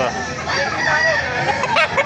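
A rooster crows up close, its long raspy call filling the moment, with a bit of clucking and yard noise around it, at a gamefowl market in Baliuag.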